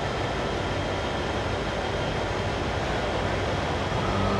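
An EMD SD40-2 diesel freight locomotive in Train Sim World, a dense steady engine drone and rumble holding constant as the heavy train strains to start, loud and close with no talk.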